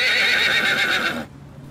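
A horse gives a loud, close whinny lasting about a second, its shaky trembling call breaking off abruptly into quiet, faint background noise.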